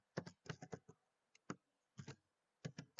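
Someone types a Turbo C program on a computer keyboard: quick bursts of close, crisp key clicks separated by short pauses, with no talking.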